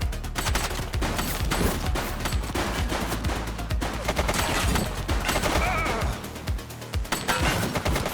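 Dense gunfire in the police game The Precinct, a continuous loud barrage of rapid overlapping shots with crashing impacts, sustained for the whole stretch.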